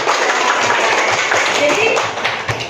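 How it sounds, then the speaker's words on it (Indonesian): Listeners at a Quran tajwid study session clap for a child who answered correctly, a dense patter of hands mixed with chattering voices throughout. "Kasih tepuk tangan."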